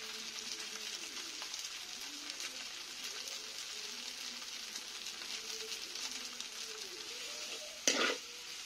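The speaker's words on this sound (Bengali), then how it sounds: "ভালো করে নেড়ে কিছুক্ষণ অল্প আছে রেখে দিলেই তৈরি হয়ে যাবে নুডলস" Noodles seasoned with Maggi masala are stirred in a frying pan, giving a steady close sizzle with soft scraping strokes throughout and a brief louder scrape near the end.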